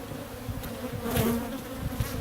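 Dense buzzing of many African honey bees (Apis scutellata) swarming close by during a beekeeping training in Nairobi, a steady droning hum that swells briefly in the middle.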